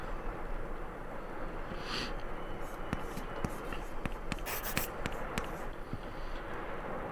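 Chalk scratching and tapping on a floor while a pentagram is drawn, with short strokes and clicks clustered in the middle, heard faintly under quiet background noise.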